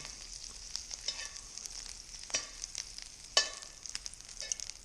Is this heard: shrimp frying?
yes